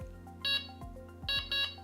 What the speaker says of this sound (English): which means it takes hardly anything for the alarm to respond